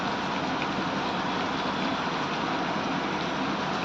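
Steady rain pours down as a continuous, even wash of noise with no pauses.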